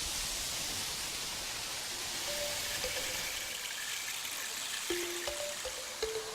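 Water cascading down a tall rock wall at the 1,000-stage waterfall in Shangri La, a constant soft rushing hiss heard from some distance, faint and even throughout with a few light tonal sounds in the background.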